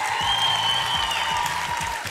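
An audience at a music award show applauds a producer; steady, fairly soft clapping runs under bright sustained music.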